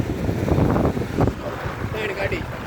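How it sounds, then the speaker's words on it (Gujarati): Outdoor wind buffets the microphone with a loud, low rumbling roar that persists throughout, while people talk over it. "પવનનો અવાજ આવતો છે વધારે"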